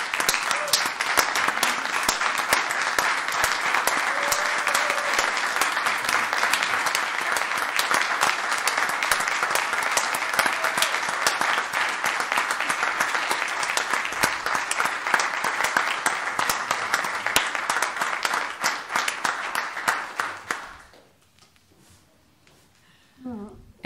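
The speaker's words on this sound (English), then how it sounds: "I'm going to stand and clap." Sustained applause from a council meeting audience, dense steady clapping that fills the room for about twenty seconds before cutting off abruptly into near silence.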